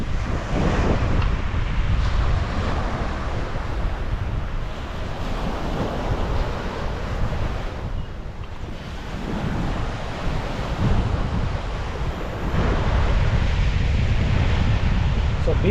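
Sea waves rolling onto a clean, soft white sandy beach at Thoothukudi, a loud continuous surf roar with wind buffeting the microphone and gentle swells in intensity, no voices over it.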